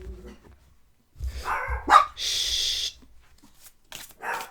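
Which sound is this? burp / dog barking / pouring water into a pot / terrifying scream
dog barking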